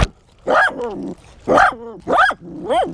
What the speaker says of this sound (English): My little wiener dog is barking at 2 of the biggest German Shepherds I think I've ever seen in my entire life.